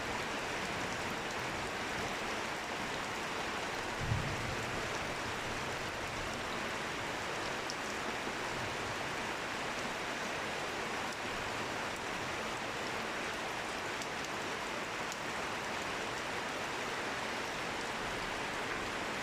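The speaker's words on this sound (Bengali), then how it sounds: "একইভাবে একই ধাঁচে বৃষ্টি নামতেছে" Steady rain falls at night in a rural village setting in Gopalganj, near a coconut tree, making a dense, even hiss that holds unbroken and fairly soft throughout, with a single faint low thump early on.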